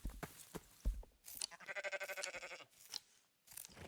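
Sheep in the video game Rising World bleating in a short, wavering burst, close and clear, with a few soft crunching sounds around it.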